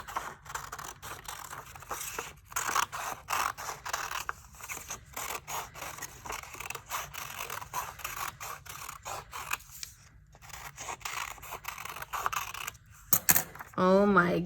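Scissors snip through paper while a smile shape is cut out for a paper pumpkin craft, a steady run of small clipping and rustling sounds close by, ending with a brief voice.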